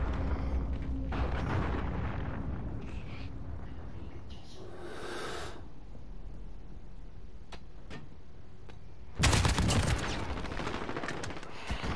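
Bursts of AK rifle fire in a shooter video game, with scattered single shots and a loud, dense volley near the end, over a steady background rumble.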